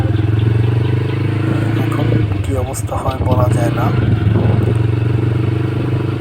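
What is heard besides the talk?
motorcycle riding on a road under construction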